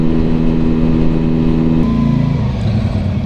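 Keeway V Cruise 125 motorcycle riding on a highway, its engine holding a loud, steady drone close by that shifts slightly in pitch partway through, with continuous wind and road noise and no talk.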